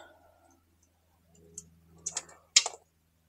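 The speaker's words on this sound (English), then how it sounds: "I am going to cut these spades" Spade connectors being snipped off the wiring of a Royal Enfield Himalayan 411 LED headlamp, giving a few sharp, close clicks of the cutters after a quiet pause, with a low hum beneath.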